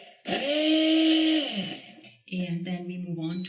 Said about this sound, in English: I believe we need a stick blender because there might be some tiny little particles that are not